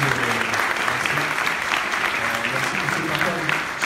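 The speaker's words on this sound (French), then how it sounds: "Déjà, on peut les applaudir quand même." Audience at a conference on hip hop and advertising claps for the speakers, a loud, dense burst of applause filling the whole few seconds with faint voices murmuring underneath.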